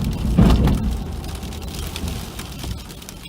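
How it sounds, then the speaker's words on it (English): Heavy rain pours steadily during a snowstorm, a dense broadband hiss of drops on surfaces that stays constant throughout, slightly louder at the start, with no talking. "Man, listen at that rain."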